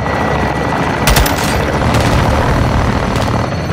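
In Call of Duty Modern Warfare 2, a helicopter being shot down sounds as loud, continuous rotor and engine roar, broken by sharp booming impacts and bursts of gunfire.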